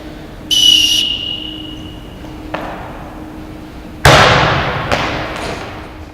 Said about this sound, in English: When I blow the whistle, shoot